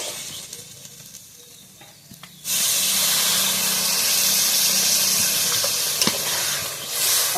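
Egg curry masala frying in a pan bursts into a loud, steady hiss and sizzle when water is poured in partway through, after a quieter stretch of low cooking sound.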